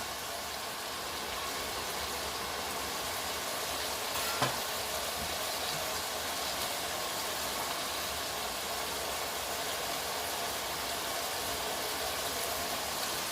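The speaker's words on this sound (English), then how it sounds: "And I'll add the rest of onion, garlic in." Onion and garlic frying in a pan for spaghetti bolognese, a steady, even sizzle that holds alone for the whole stretch, with one faint clink partway through.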